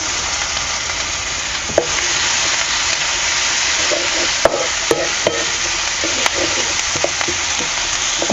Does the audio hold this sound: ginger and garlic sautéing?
yes